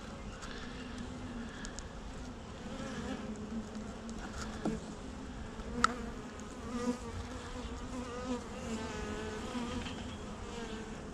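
Honey bees swarm around an open beehive frame, a steady close buzzing hum with individual insects passing near, quiet and continuous.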